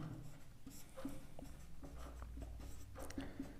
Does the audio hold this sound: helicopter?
no